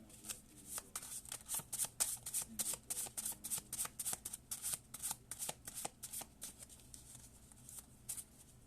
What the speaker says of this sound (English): I'm going to pull some lower cards to go with it real quick.